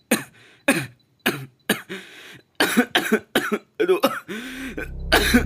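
A person with tuberculosis coughs repeatedly in harsh bursts, close up, with short pauses between fits and a pained exclamation amid them.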